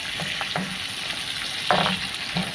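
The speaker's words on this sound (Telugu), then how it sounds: "అన్నీ అయితే పచ్చి వాసన పోయేంత వరకు అయితే వేయించుకోవాలన్నమాట." Spices and fenugreek powder frying in a pan for tomato bajji, a soft continuous sizzle broken by a few sharper scrapes and stirring knocks of a spoon against the pan, close and clear with no voices.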